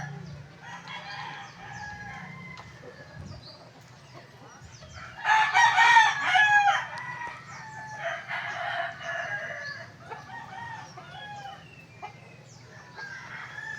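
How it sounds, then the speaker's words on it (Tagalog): Chickens and chicks in a backyard flock cluck and chatter at a moderate distance, with a louder burst of rooster crowing in the middle and softer clucking continuing afterwards. "hindi lang po dalawa yung sisiw namin, 4 rin po"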